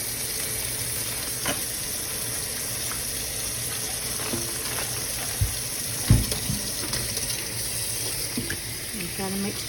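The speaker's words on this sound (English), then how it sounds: "So I do rinse my turkey." Water runs steadily from a tap over a Butterball turkey being rinsed in a sink, a constant hiss with occasional small clunks and splashes as the bird is handled.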